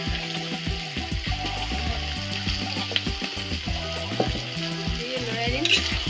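Cut potatoes sizzle loudly in a hot pan while a utensil stirs and scrapes through them, steady frying hiss under repeated close scraping strokes.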